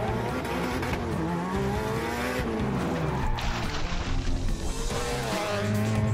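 A cartoon car accelerating hard, with revving engine, squealing tires and skidding under continuous music, loud and close throughout.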